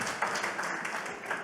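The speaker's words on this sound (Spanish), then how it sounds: "Un aplauso." A congregation gives a brief burst of applause during a bilingual church sermon, a soft, quick patter of clapping that fades within moments.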